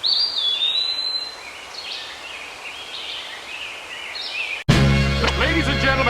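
Birds chirp and warble in a natural outdoor setting, a steady series of high tweets over soft rustling background, cut off abruptly by a louder burst of another sound near the end.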